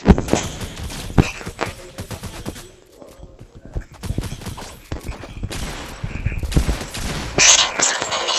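Video game gunfire crackles in rapid bursts and fusillades, loud and close, with short pauses between volleys and some faint background talk.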